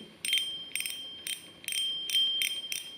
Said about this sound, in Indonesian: Kemudian untuk clicker sendiri bunyinya seperti ini.